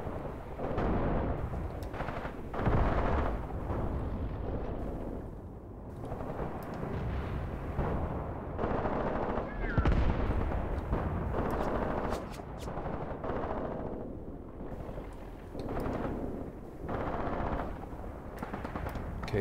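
Sustained machine gun fire in the WWII tactical game Graviteam Tactics Mius Front: dense, overlapping bursts and rattling shots with heavy booms, loud and continuous throughout.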